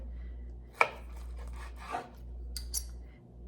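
A knife slices through an oven-baked chicken breast in a few soft, close strokes, with one sharper scrape against the board and quiet gaps between cuts.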